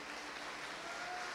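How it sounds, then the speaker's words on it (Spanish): Church congregation clapping in praise during a Sunday service, a continuous, even wash of many hands throughout the short stretch, with a faint sustained tone running underneath. "dale un fuerte aplauso a Jesús."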